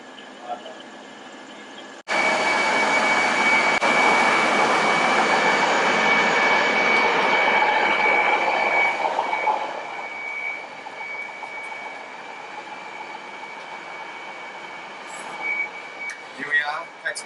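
The 8:30 train from Newcastle to Sydney rumbles steadily close by, with a loud rushing roar that gradually eases into a quieter rolling hum and faint clatter.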